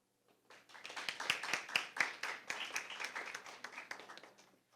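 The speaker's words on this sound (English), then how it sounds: "Another round of applause." An audience at a 2024 secondary school debate round bursts into applause, many hands clapping in a dense, steady patter that swells quickly and then slowly thins out.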